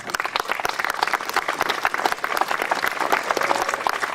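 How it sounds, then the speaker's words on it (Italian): Theatre audience applauding the cast of an Italian stage comedy, a thick, continuous wash of clapping from a large crowd that stays loud and even throughout. "facciamo un applauso per gli attori"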